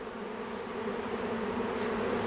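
A massive honey bee swarm being removed in Weslaco, Texas, hums in a thick, continuous close-up drone of countless bees, with no voices over it.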